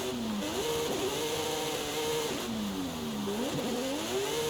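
A car drifts with the handbrake in Forza Horizon 5, its engine revving loudly and close, the pitch swooping down and back up in repeated surges as it slides and accelerates.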